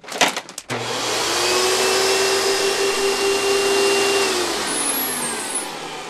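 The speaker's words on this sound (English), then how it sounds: "All you gotta do is Ziploc it closed and get your vacuum ready." A household vacuum cleaner draws the air out of a Space Bag stuffed with scarves, a loud steady roar with a falling whine after a few clicks at the start.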